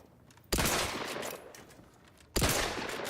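Two sharp, loud rifle shots ring out in Outer Worlds 2, nearly two seconds apart, each a hard crack that trails off in a rolling echo.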